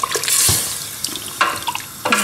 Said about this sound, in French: je rajoute de l'eau, l'équivalent de 75 ml,